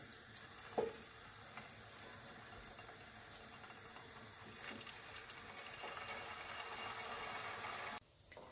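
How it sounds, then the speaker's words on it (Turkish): Steady, soft sizzling of stuffed meatballs (içli köfte) frying in hot oil, with a few faint clicks and taps of a utensil, close by and continuous. "Kızdırdığım yağımda köftelerimi kızartıyorum."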